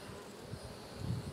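Honey bees clustered in a nuc box give off a soft, steady droning buzz that swells slightly toward the end, faint and close with no voices.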